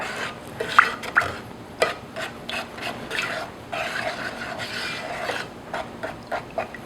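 Gel food coloring is stirred into a dessert mixture in a bowl, giving a steady scraping, rubbing sound with occasional sharper taps of the utensil against the bowl, close and alone with no talk.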